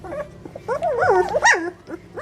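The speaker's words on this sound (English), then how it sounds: "They're starting to bark." Two-week-old puppies give thin, high yips and whimpering little barks in a quick, uneven cluster, close by and fairly loud, with no talking.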